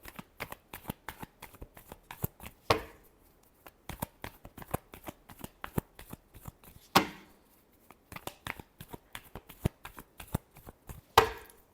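Tarot cards shuffled by hand in a quiet room, a rapid patter of soft riffling flicks with three sharper bridge-like snaps spaced several seconds apart, close and fairly faint.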